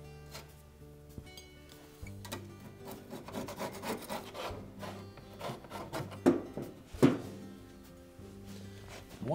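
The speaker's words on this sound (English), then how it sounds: "take a little wire brush or even just a scraper to clean any of the excess" Old glue is scraped off the drum seal surface of a Frigidaire dryer during a front lower drum seal repair, giving quiet, close, irregular rubbing and rasping strokes with a few small knocks.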